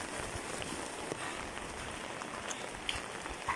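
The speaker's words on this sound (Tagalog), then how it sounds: "Sa grabe ang ulan." Heavy rain pours steadily on a surface outdoors on a rainy day, a dense continuous hiss with scattered droplet ticks, no voices.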